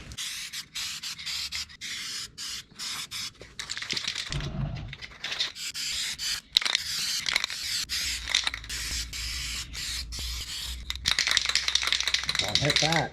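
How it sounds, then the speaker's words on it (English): Dried spray paint being sanded off the rust-damaged body of a Dodge Ram 2500 truck: close, loud abrasive rubbing in quick repeated strokes, with brief pauses and a short break near the middle. "I'm going to have to sand that off."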